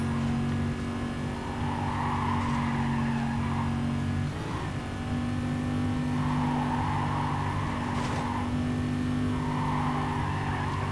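A car engine from the racing game Need for Speed Carbon roars steadily through a chase, its droning revs shifting pitch, with tire skids and squeals cutting in and no talking.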